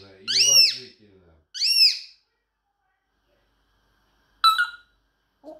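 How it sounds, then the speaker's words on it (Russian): A pet bird, apparently a small songbird, sings two loud rising whistled phrases close by, then a brief chirp after a pause, with a faint low voice at the start. "Гриш, когда ты поешь, на душе становится радостно"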